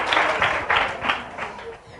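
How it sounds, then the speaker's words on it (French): An audience at a church event applauds for a young girl, a short run of clapping in loose bursts that fades, with a voice speaking over it. "On applaudit pour Liliane."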